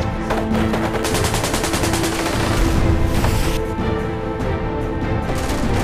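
Loud, rapid bursts of automatic gunfire rattle continuously, with heavy shots and echoing booms layered close together.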